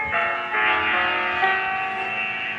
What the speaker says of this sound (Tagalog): Parinig mo tong bell.